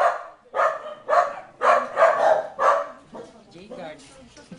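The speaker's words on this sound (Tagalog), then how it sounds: "Ang daming aso, si Tisoy at si Uno." Several dogs, among them young dogs, bark in a steady run of about six loud, evenly spaced barks, then softer yips and whimpers.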